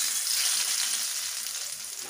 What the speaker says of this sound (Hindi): घी गर्म हो गया, गैस का फ्लेम बंद कर देंगे और इसमें डालेंगे 1 लाल मिर्च।